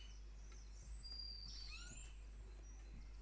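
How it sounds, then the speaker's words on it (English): Thin, high bird chirps and short whistled calls rise faintly over a steady low hum and a quiet background, with no talk. "Enjoy the bird song."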